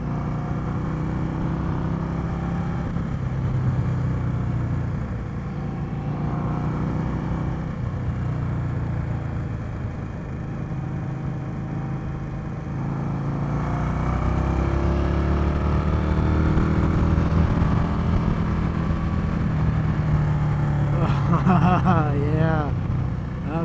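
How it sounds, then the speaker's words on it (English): 2020 Indian Scout Bobber motorcycle on a dealer demo-day test ride, engine revving high, a continuous moderate engine drone with brief talk and wind over it. "High revs and a beautiful sounding engine."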